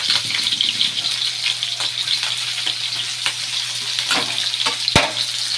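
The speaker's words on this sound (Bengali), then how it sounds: "এই আলুগুলো এবার ভাজা হোক।" Thin potato strips fry in hot oil in a home kitchen, a dense steady sizzle with occasional crackles and stirring clatter, close and continuous with no talk.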